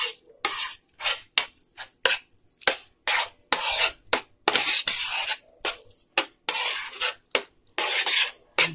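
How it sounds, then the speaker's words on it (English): Tofu goulash with marinara sauce stirred in a pot, a run of repeated scraping, clinking strokes in an uneven rhythm, close and clear with no talking. "I'm gonna stir this up"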